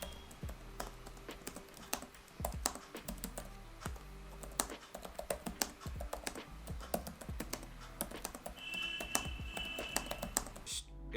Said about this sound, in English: the keyboard is just really good to type on